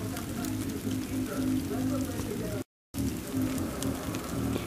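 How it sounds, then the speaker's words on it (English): Sleet falling outdoors as pure ice pellets striking the ground and surfaces, a dense steady hiss of tiny impacts, fairly close and even throughout, with a brief cut to silence midway. "It's just pure sleet. It's just ice."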